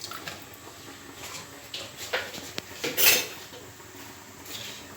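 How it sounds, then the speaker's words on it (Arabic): Ingredients for an oven-baked fish dish being mixed in a bowl, with soft close clinks and scrapes of a utensil against the dish over quiet background noise. "كامل هاد المكونات غادي نخلطوهم"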